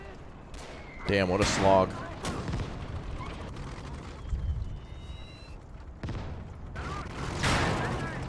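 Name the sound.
machine gun fire in the video game Gates of Hell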